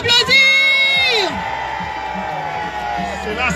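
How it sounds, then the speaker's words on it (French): A crowd in Senegal whoops and cheers loudly, shouts rising over a dense wash of voices that continues steadily. "Est-ce qu'on peut l'applaudir?"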